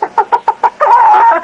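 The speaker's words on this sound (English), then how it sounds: "Hey, chicken, you up there in the hayloft?" A chicken clucks from a hayloft overhead: five short, evenly spaced clucks, then a longer, sustained squawking call, all close and fairly loud with no talk over it.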